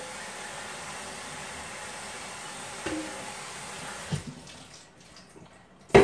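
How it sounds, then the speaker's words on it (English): Running tap water rinses small potatoes as a steady, soft hiss that drops away partway through, followed by a few light knocks and a sharp clatter at the end. "we're gonna just rinse these potatoes."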